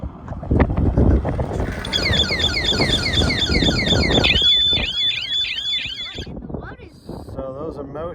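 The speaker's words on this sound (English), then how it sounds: "So those are motion-activated alarms because we are at the dog fence" A motion-activated electronic alarm at the dingo fence on the Oodnadatta Track, Australia, sounds in repeating warbling, swooping tones over rumbling vehicle noise and a voice, then cuts off near the end.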